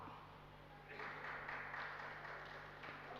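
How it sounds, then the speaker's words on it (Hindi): An audience claps during a Jain sermon in a hall, a dense, steady burst of applause that swells after a moment of quiet murmur and continues for a few seconds at moderate distance. "ताली बजा रहे हो?"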